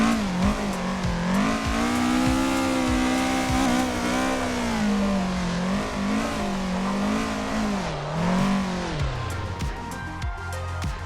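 A race car in a racing simulator game spins on the Ibiza circuit. Its engine drones loud and unbroken, revving up and down in wavering swells with no talk over it.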